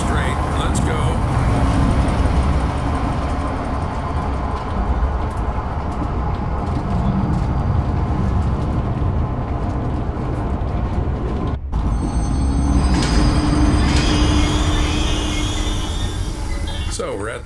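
An onboard train in the horror game Zoochosis rumbles loudly and continuously, with a steady rolling clatter and rattling carriage noise, while a voice talks over it throughout.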